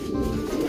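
Paired breeding pigeons coo softly and steadily at close range, a low continuous murmur filling the short moment with no voices over it.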